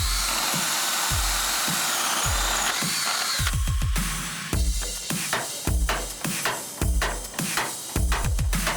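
A power drill drives fasteners through a light crutch-style gazebo frame into a wooden deck, heard as repeated short whirring bursts with thumps and knocks, growing busier and more rhythmic in the second half, close by and without talk.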